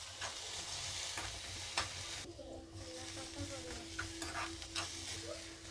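Ridge gourd peel sautéing in a little oil with rock salt in a pan: a close, continuous sizzle broken by the scrape and clack of a spoon stirring it around.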